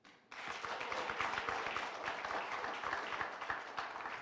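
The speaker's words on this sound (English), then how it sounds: "Can we clap for Diaspora TV?" A live audience at a business expo and independence festival in New England gives a round of applause, with dense steady clapping starting abruptly and filling the space for several seconds.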